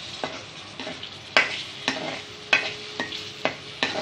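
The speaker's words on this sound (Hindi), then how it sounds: "अब ये कटी हुई टमाटर और हरी मिर्च, इसको हम इसमें शामिल कर देंगे" Chopped tomatoes and green chillies going into light-brown frying onions for baingan bharta, a soft background sizzle broken by a series of sharp scraping clicks from stirring, close by.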